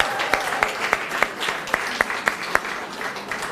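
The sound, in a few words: graduation audience applause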